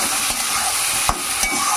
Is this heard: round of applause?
no